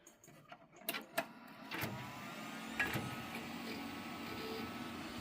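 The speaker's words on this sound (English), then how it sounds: "You can definitely hear the clunking of the CD drive, so it's probably a 16X." CD drive in an old custom-built computer booting up, a few faint clunks and clicks followed by a steady low whir of fans and drive spin.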